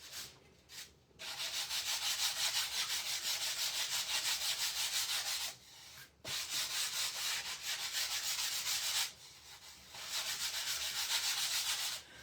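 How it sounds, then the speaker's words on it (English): Bamboo plant stand being sanded by hand in long, steady rubbing passes, loud and close, broken by a few short pauses. "sand that off real quick"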